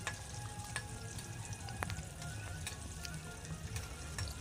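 Fish fingers and fish balls fry in hot oil, a quiet, continuous sizzle with scattered crackles and pops and occasional stirring, with no voices.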